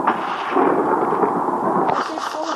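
Rolling thunder from lightning strikes in the Minecraft video game fills the scene as a continuous broad rumble, with a sharper crack near the end.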